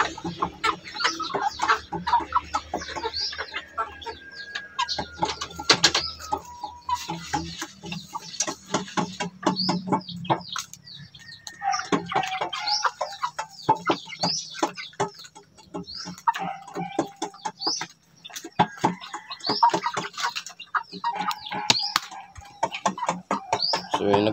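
Three-month-old native chickens cluck and chirp steadily in a backyard coop at feeding time, a busy, close chorus of overlapping short calls with scattered pecking ticks and no talk.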